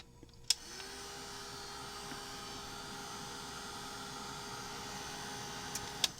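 A heat tool drying Distress Resist Spray runs as a steady, close droning whir the whole time, switched on with a click near the start and clicking again at the end, with no talking.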